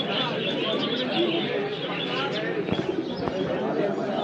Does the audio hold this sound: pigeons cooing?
yes